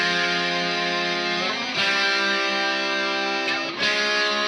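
Sustained, distorted electric guitar chords without stereo panning ring out loud and steady, changing chord twice, with a dense, saturated tone and no other sounds.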